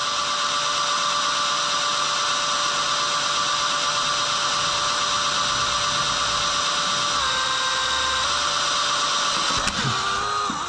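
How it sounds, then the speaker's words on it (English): A power drill bores a hole into an old engine part from an engine left unrun in a barn for 23 years, giving a loud, steady, close whine that dips in pitch near the end as the bit breaks through. "It's drilling though."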